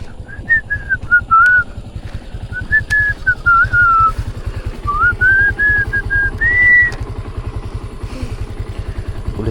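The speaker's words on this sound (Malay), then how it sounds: "Pun motor masih hidup." A motorcycle idles with a steady low, rapid putter beside a fishing spot, while someone whistles a wandering tune over it and a sharp click or two sounds now and then.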